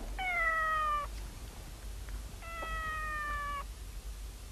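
A cat gives two long, clear meows with a short pause between them, close and fairly loud against a quiet background.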